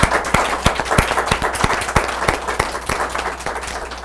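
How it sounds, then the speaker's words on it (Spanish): A studio audience gives a guest a steady round of clapping, dense and close, holding evenly for several seconds with no voices over it. "vamos a brindarle por favor un fuerte aplauso al invitado de nuestro día de hoy"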